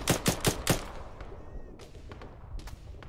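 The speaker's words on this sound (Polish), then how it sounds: "Skąd on gówno strzela?" Four sharp, close gunshots from ArmA 3 crack in quick succession, followed by fainter scattered shots further off in a quieter stretch.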